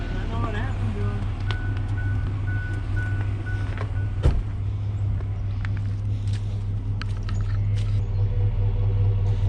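A warmed-up 1993 GMC 1500 pickup, revived after sitting ten years, idles nearby with a steady low rumble and a faint tick throughout, joined by a short clunk midway.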